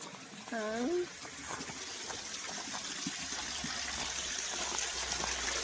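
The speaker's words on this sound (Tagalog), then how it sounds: "We have our own waterfalls and a small river." Steady gushing water from a small waterfall and river in front of a house, a constant moderate rush running throughout, with a brief voice near the start.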